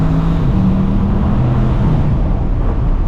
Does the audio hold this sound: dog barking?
no